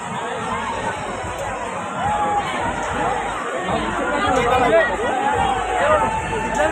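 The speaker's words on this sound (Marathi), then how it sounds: "बघा जत्रेला गर्दी किती आहे ती" A dense crowd at the Kalbhairav temple fair in Kharepatan fills the air with overlapping chatter and babble of many voices, close and continuous, swelling slightly toward the end.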